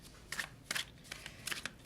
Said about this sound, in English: I'm sorry, I'm taking so long to shuffle